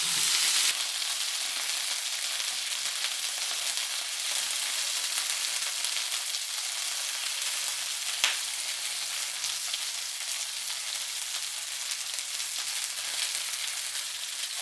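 Chicken wings sizzling in a pan over lowered heat, a steady even hiss of frying that continues throughout with one small clink partway through and no voices.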